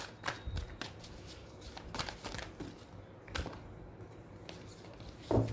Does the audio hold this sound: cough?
no